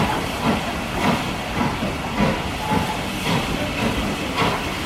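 A steam train on the Haverthwaite heritage railway chuffs close by, rhythmic loud exhaust beats with hissing steam repeating steadily as it works along the line.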